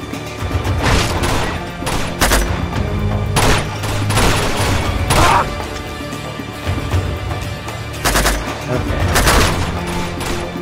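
Heavy gunfire in the Uncharted 2 train chapter: bursts of rifle shots and booming impacts over a continuous loud battle din, with several sharp peaks spread across the scene.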